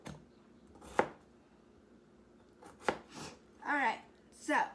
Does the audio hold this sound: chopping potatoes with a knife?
yes